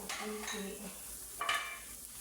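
A utensil scrapes and stirs meatballs in a pan with a soft background sizzle, two brief stirring strokes standing out against the steady frying.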